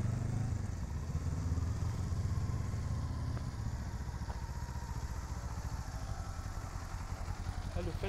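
A motorcycle on a riding-school training course runs steadily at low revs, a continuous mid-distance engine drone under occasional instructor talk.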